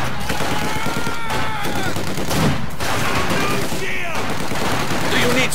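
Dense machine-gun and rifle fire crackles through a Company of Heroes 2 battle, with rapid overlapping bursts and shots throughout and voices talking over the fighting.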